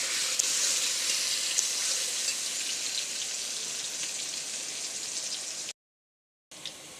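Potatoes with salt and turmeric frying in a pan, making a dense, even, close hiss of oil sizzling that runs steadily, broken by a brief silent gap near the end.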